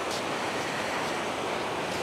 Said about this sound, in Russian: Волны накатывают.